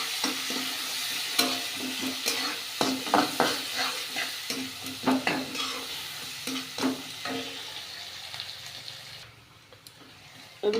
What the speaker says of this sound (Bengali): রসুন পেঁয়াজটা ভালো করে ভেজে নিয়েছি লাল করে